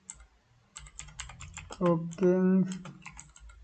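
Computer keyboard typing while writing code for a Flutter to-do app, a run of quick close key clicks with someone speaking over the middle.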